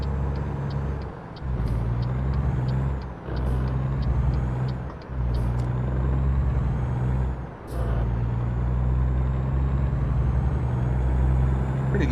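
A heavy truck engine's Jake brake in American Truck Simulator drones loudly and steadily, dropping in level three or four times, with hissing air-brake bursts and faint rhythmic ticking throughout.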